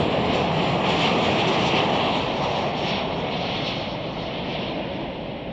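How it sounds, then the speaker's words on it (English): United Boeing 737-900ER arriving from SFO on approach to land at Chicago O'Hare, a steady broad jet roar held loud throughout and easing slightly toward the end, with no voices. "Coming in next is United Flight 1791 from SFO"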